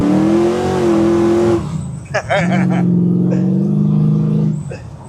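A 1969 Chevrolet Camaro LS3 restomod engine revs hard, with a loud, deep rising roar that drops away, then settles into a throaty idle and surges again, with a voice briefly speaking over it.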